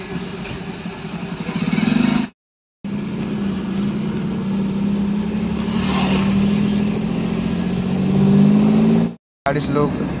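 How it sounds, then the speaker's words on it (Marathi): Cars pass and idle in heavy road traffic during a Ganpati procession in the Konkan, with a steady, close engine drone that swells and cuts out briefly twice. Voices can be heard faintly over it. "ट्रॅफिक आहे इथं फुल."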